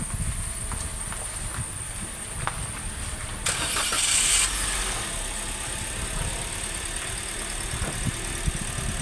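A travel car's engine is started with a short cranking burst that catches and settles into a steady idle, heard close and continuous with no talking.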